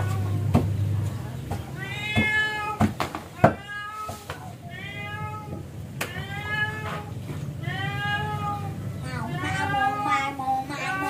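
A cat meows repeatedly outdoors, drawn-out wavering cries coming in a series of close, fairly loud calls, with people chatting and occasional knocks in the background.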